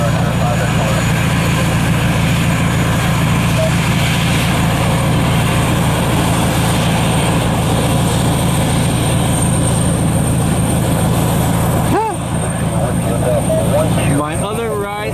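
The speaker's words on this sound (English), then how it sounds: "JetBlue Airbus, or JetBlue Embraer E190 pulling into the gate" A JetBlue Embraer E190 jet taxiing to the gate at Cleveland Hopkins airport in snowy weather, a steady loud engine whine and rumble held throughout, with a brief shift in tone near the end.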